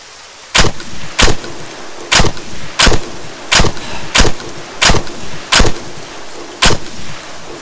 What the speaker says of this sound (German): da kommen Schüsse aus Südwesten.